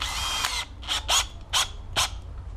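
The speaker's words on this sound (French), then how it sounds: "j'ai choisi de percer dans le joint, vraiment parce qu'on percera aussi dans le parpaing" A Bosch GSB 18V-60C cordless drill bores into the mortar joint of a concrete block wall, with one longer whining run followed by several short, sharp bursts of drilling, loud and close.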